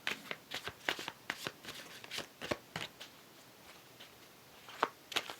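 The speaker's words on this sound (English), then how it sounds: "Shuffling this way for a minute." Tarot cards are shuffled in quick riffling bursts, a close, crisp flutter repeating in short clusters with small pauses between.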